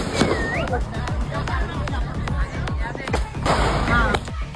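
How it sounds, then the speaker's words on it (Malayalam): Firecrackers set off for Diwali, a rapid string of sharp cracks and pops going off one after another, loud and close, with voices talking and babbling underneath. "എന്തിനാ ആളുകൾ പടക്കം പൊട്ടിച്ചേ?"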